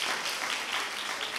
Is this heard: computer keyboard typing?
no